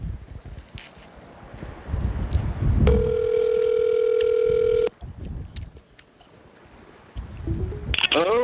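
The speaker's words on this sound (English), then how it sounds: "Let's call Yellowfellow back." A steady telephone dial tone holds for about two seconds, framed by wind buffeting the microphone and handling noise, with a sharp electronic chirp near the end.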